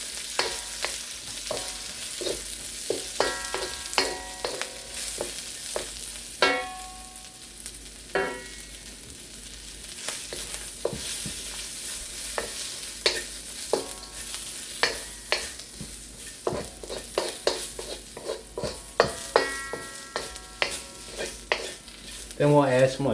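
Cabbage and other vegetables for Korean japchae sauté in a hot pan. A constant sizzle of frying carries under frequent scraping and clacking stirs from a utensil.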